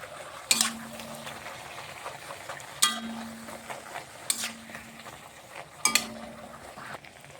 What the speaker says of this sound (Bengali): একটু চেপে চেপে ভেজে নিচ্ছি।